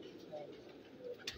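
Pigeons kept by a fancier on a rooftop give two soft, low coos about a second apart, faint against a murmuring background.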